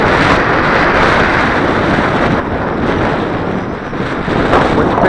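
Strong wind buffets the microphone while an MJX X400 drone flies on a windy day, a loud, continuous roar of broadband rushing noise with slight surges and dips throughout.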